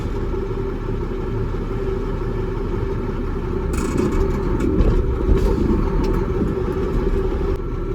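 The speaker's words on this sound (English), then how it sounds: "I'm going to pull forward in my lowest forward gear 5 miles an hour" A semi truck creeping forward in its lowest forward gear at about 5 mph during a pre-trip air brake check gives off a steady, close diesel rumble that swells slightly midway, with light clatter above it.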